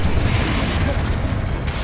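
A Confringo blasting spell explodes in Hogwarts Legacy, a heavy, booming burst with rumbling, crackling debris that fills the short clip at steady loudness.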